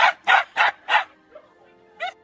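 A dog barks in the snow: four quick, sharp barks, loud and close, then a short pause and one more bark, with no talk.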